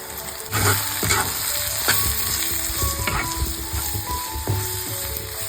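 Onion, tomato and turmeric masala frying in a pan for a vegetable curry of fresh bean pods, giving a loud, steady sizzle with repeated stirring scrapes and metallic clinks close by.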